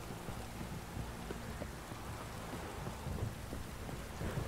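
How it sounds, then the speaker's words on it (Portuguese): Steady heavy rain hisses continuously, with deep thunder rumbling low beneath it and a few soft thumps throughout; a nighttime storm in the video game The Witcher 3. "Chuva forte."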